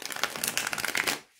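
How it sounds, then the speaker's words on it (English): A tarot card deck being shuffled, a fast riffling flutter of cardstock that runs steadily for over a second, then stops abruptly into quiet. "So it could possibly come up after my shuffle"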